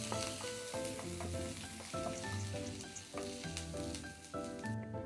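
Chicken momo filling with finely chopped ginger sizzles steadily in a pan while being stirred, a constant close frying hiss with occasional scraping strokes and no speech.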